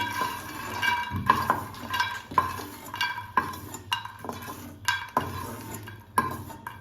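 Roasted makhana (fox nuts) are scraped out of a pan with a metal spoon, giving repeated close clinks and scrapes in an uneven rhythm over a faint sizzle.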